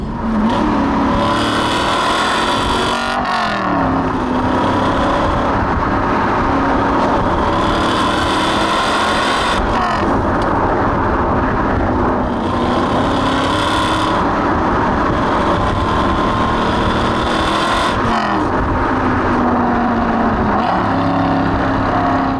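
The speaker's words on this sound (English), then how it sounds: "I've just opened up the valves there for the exhaust, and it's loud" An Aston Martin V8 Vantage GT4 engine roars continuously with a loud, raspy exhaust, its exhaust valves open, revving up and down through several gear changes, close and powerful throughout.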